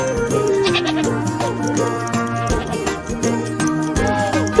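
A goat bleats over a steady musical backing with layered tones, the animal call rising and wavering in a few repeated cries, fairly loud and close.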